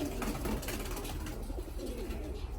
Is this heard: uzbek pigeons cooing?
yes